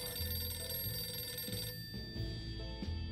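An old-style telephone bell rings in the video game 60 Seconds! Reatomized, with a repeating metallic trill in regular bursts over background game music and no voices.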